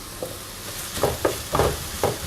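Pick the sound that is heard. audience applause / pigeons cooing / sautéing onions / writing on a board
sautéing onions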